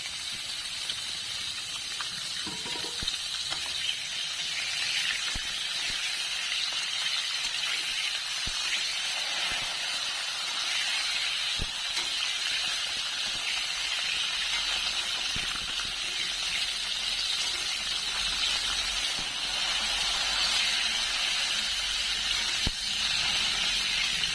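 Steady hissing sizzle of pointed gourd frying in oil, constant and broadband throughout with a few faint clicks, no talking.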